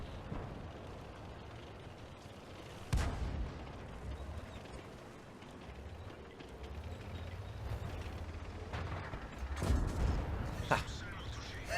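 Tank cannon shots in a World of Tanks battle: a few heavy booming blasts stand out over a rumbling engine and battle ambience, with a voice talking over it.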